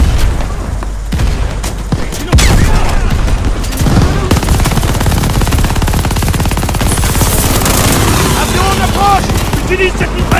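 Machine gun fire in a Call of Duty: Vanguard battle, a loud continuous rattle of automatic shots with heavy booms underneath. Shouted voices come through the din.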